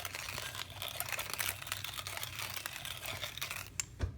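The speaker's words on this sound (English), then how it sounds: "the grind I'm going to show you is the coarse grind" Silva manual coffee grinder, 2nd Gen Gold Edition, set coarse and cranked by hand: a dense, continuous gritty crunching and rasping of beans, close and steady for several seconds with small clicks, then stopping. Nobody speaks.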